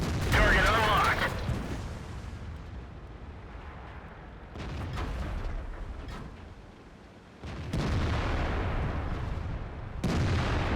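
A tank cannon fires in World of Tanks, a heavy booming blast followed by rumbling and a second burst of impact noise later, with game voice callouts.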